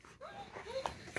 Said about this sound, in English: that's my dog crying because he's sad that he can't read